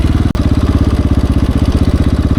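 A KTM 690 Enduro single-cylinder motorcycle engine thumps loudly and close in a fast, even pulsing beat while riding, with one sharp knock early on and no talking.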